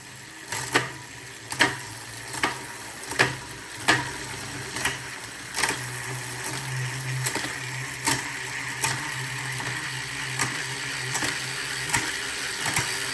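A bicycle cassette shifts through its gears, sending a steady series of sharp mechanical clicks about once a second, followed by a continuous soft ratcheting whir from the freewheel, close and clear with no talking.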